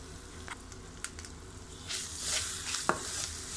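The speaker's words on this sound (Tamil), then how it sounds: "இது கொஞ்சம் எண்ணெயில் பொரியட்டும்." Ground pepper, cumin, coriander and curry leaves frying in oil for tomato rasam, a soft sizzle with faint stirring scrapes growing louder toward the end, close and fairly quiet with no voices.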